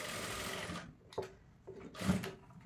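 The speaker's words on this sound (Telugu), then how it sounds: "కింది వరకు ఇలా స్టిచ్ చేసుకుంటూ మనము ఎక్స్ట్రా స్టిచెస్ వేసుకున్నాం." A sewing machine stitches cloth for a frills frock, running in a quiet burst of rapid stitching that stops abruptly, followed by a few soft mechanical clicks and knocks.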